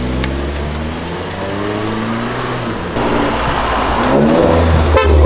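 A car leaving a car meet sounds a long, steady horn blast for about three seconds, then its engine revs and accelerates loudly nearby.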